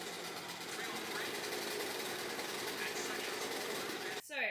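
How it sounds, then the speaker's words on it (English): A sewing machine stitching fabric for small bloomer shorts, a fast continuous whirring buzz close up, stopping abruptly near the end as a voice begins. "And let's sew these."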